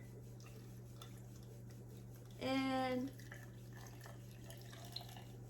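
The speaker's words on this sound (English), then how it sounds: "now we're going to take this filtered water here and just pour it in" Filtered water poured into a jar for homemade pickles makes a short, clear gurgling splash lasting about half a second, close and distinct against quiet room tone.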